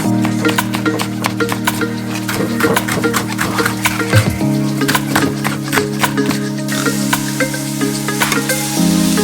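Peppers and onions sizzling in olive oil in a pan, a steady close crackle with stirring scrapes over a constant background hum.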